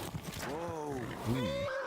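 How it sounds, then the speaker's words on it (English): Horse in Kingdom Come Deliverance 2 neighs as it bucks its rider, a loud rising-and-falling whinny lasting about a second, followed by a second shorter squeal, up close over steady game background noise. "horse is bucking me off"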